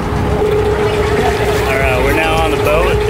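A boat motor drones steadily up close, with rushing water noise beneath, continuous and loud throughout, on a short boat ride in Dubai.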